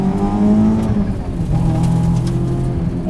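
A supercharged Honda S2000 track car making 385 wheel horsepower, fitted with a Rotrex-based Kraftwerks belt-driven supercharger kit, revs loudly up close with a sustained engine drone and shifting tonal whine.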